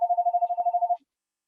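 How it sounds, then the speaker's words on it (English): A phone ringing indoors at home: a rapid, pulsing electronic tone trilling for about a second, loud and close, then cutting off into silence. "that is my phone ringing because I am at home right now"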